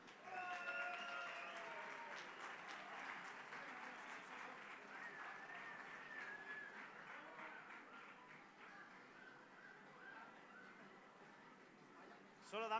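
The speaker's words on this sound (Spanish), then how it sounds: "un aplauso" Sustained applause from a crowd at a prize draw, steady clapping that slowly thins out over several seconds.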